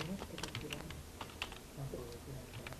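Typing on a computer keyboard while entering a name into a data-entry form, a run of quick, light key clicks at moderate loudness with a faint low murmur underneath.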